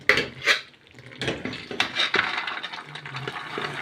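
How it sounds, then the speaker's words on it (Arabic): Green beans go into a metal pot of cooked-down tomato sauce, with sharp clinks of a utensil against the pot, scraping and soft wet shuffling as they are tipped in and stirred, close by, with no talking. "هبدأ احط الفاصوليا"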